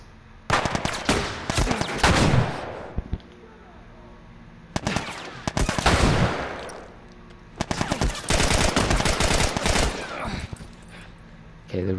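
Heavy-recoil automatic gunfire in The Last of Us, coming in three loud sustained bursts of rapid shots separated by short quieter gaps.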